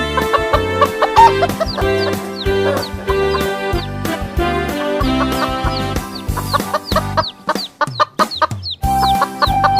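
Chicken clucking sounds run through an upbeat children's tune, the clucks repeating in quick bursts over the music from start to finish, loud and close.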